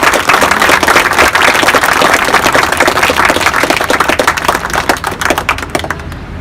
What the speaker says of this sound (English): we can give that business a big round of applause too